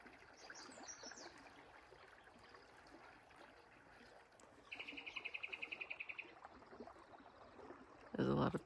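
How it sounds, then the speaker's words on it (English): Birds chirping outdoors around a small camper trailer, several quick calls scattered faintly through the background, with one louder bird trilling rapidly in the middle and a brief clatter near the end. "There's a lot of birds around."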